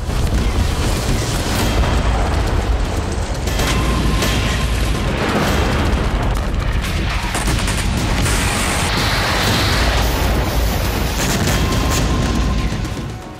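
Loud, dense rumbling booms roll on continuously as a Russian weapons store explodes in the Ukraine war, with sharper blasts and crackling bursts layered over a heavy low roar.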